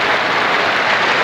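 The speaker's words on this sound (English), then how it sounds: "Standing ovation from his home crowd and every Pakistan player applauding him off the field." Dense, steady applause and a standing ovation from the home crowd at the Gabba in Brisbane during a Test match against Pakistan, with the sound filling the whole moment at full loudness.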